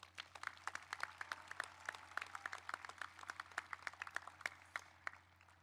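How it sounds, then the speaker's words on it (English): Graduates at a high school graduation ceremony clap in a faint, distant round of applause, steady overlapping hand claps heard from far away with a low hum underneath. "give yourselves a round of applause."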